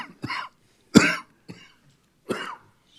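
Four short, separate coughs in a meeting room at a water district board meeting, spaced irregularly with quiet gaps between, close and distinct.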